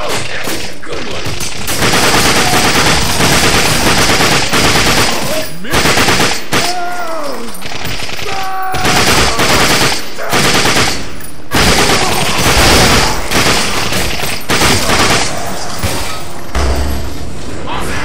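Rapid bursts of automatic gunfire and heavy shots from the video game The Darkness II, loud and nearly continuous, with a voice speaking over the shooting.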